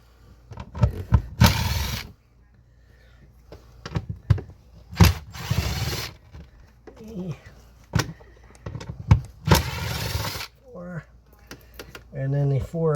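Power driver fitted with a 7mm socket backs out screws holding the Bose speaker enclosure and 6x9 grill plate in an '87 C4 Corvette, several loud whirring bursts of a couple of seconds each between pauses, with someone talking in between.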